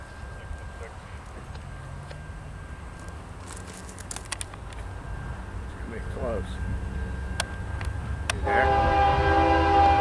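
A westbound train passes outdoors, its rumble building steadily and growing loud near the end, with horn blasts sounding; a person talks briefly over it.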